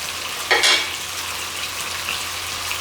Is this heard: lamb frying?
yes